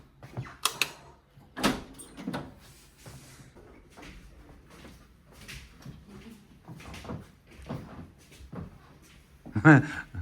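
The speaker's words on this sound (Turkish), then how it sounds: "Hemen kapıyı açalım." A door in a family home is opened, giving a few clicks and knocks and a louder thump near the end, while voices talk quietly in between.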